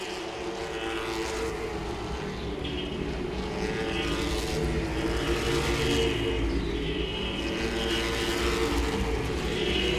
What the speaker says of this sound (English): Connor closing in once again on the 55 in the 77 Town Bank ride.